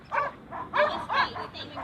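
Dog on an Australian farm while two bulls are being brought in, giving a few short yips or barks in a quick series under nearby voices.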